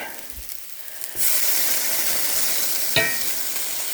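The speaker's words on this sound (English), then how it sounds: "I'm going to let this garlic fry up just a little bit." Garlic frying in a pan with sausage, a steady close sizzle that swells suddenly to a louder hiss partway through, with a brief scrape of stirring, no talk.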